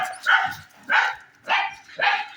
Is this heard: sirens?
no